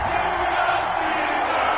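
Stadium crowd in an EA Sports NFL video game before a Los Angeles Chargers versus Pittsburgh Steelers kickoff, a dense, steady roar of cheering and whooping that stays loud and even throughout.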